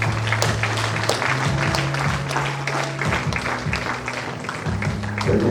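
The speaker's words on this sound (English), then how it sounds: "Please let's keep clapping." Sustained applause from a university inaugural lecture audience as officials are seated, continuous crowd clapping at an even level with a low tonal hum beneath and a slight swell near the end.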